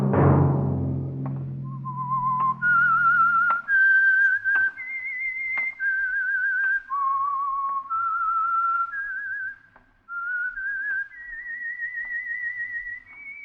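A lone whistled melody, the signature theme of The Whistler radio mystery program, clear and close, with sustained, gliding notes that rise and fall in a slow, eerie tune for several seconds and no voices.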